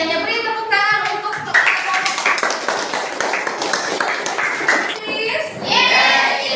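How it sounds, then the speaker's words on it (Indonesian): A class of students claps together in a dense burst of applause lasting several seconds, with voices audible at the start and end. "Beri tepuk tangan untuk"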